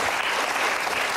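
Studio audience applause on a quiz show, a short dense burst of clapping heard close and steady, with no speech over it.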